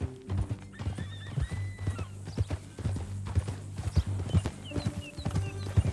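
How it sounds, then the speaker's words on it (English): In Red Dead Redemption 2, horse hooves clip-clop in a steady gait while a horse whinnies and snorts, fairly close, with quiet ambient sound around. "That a new horse?"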